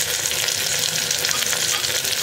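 Carrot, tomato and green chili fry together in oil in a pan, producing a loud, even, close-up sizzle with faint stirring and no voices.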